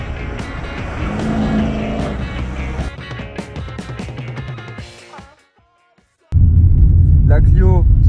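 A Renault Clio III drives along a road, its engine and tyre noise loud and steady, then dropping away to near silence before surging back strongly, with a voice briefly over the motor.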